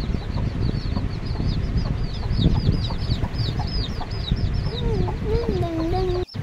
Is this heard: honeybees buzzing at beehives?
no